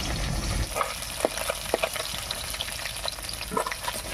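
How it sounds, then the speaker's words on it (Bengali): Bata fish sizzling steadily in hot oil in a pan, a dense close crackle with a few sharper pops and spatters over about four seconds, with no voices. "এই মাছ কটা ভাজা হয়ে গেছে এবার নামিয়ে নিচ্ছি"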